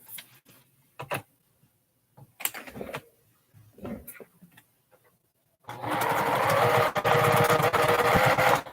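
A home sewing machine stitches quilt strips for a scrap quilt top, running in a loud, steady mechanical whir near the end after a stretch of quiet handling clicks and rustles.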